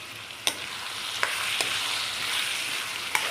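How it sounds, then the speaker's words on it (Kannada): Vegetables with tomato sizzling steadily in a hot pan for savige upma, a bright continuous fry with a few sharp clicks of a stirring spoon against the pan, close and alone. "ಇದೊಂದು ಸ್ವಲ್ಪ 5 ನಿಮಿಷ ಫ್ರೈ ಆಗಿಬಿಡಲಿ"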